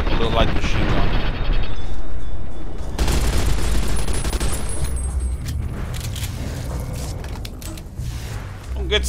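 Sustained bursts of light machine gun fire in Fallout: New Vegas, loud rapid rattling shots and explosive booms filling the clip, with a person talking over the gunfire.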